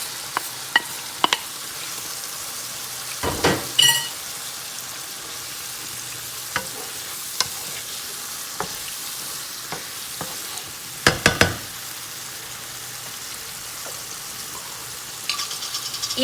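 Onions and garlic fry in a pan with a steady low sizzle, broken by several sharp scraping stirs and clacks of a utensil against the pan; no one speaks.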